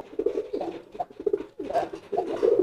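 A pigeon coos in repeated soft, throaty phrases close by, with brief pauses between calls.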